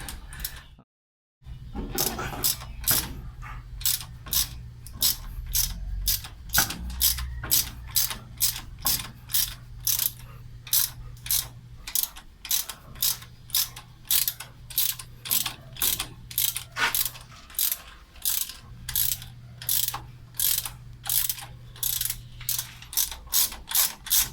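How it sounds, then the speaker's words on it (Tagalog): A ratchet with a 14mm socket loosening cylinder head bolts, giving rapid bursts of sharp mechanical clicking in a steady back-and-forth rhythm, close and clear with no talk. "pwede nyo nang gamitin yung ratchet"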